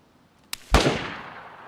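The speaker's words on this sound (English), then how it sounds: "I just heard a different sniper shot" A single sniper rifle shot in the survival game DayZ, a sharp distant crack followed by a heavier boom that rolls off into a fading echo, heard alone.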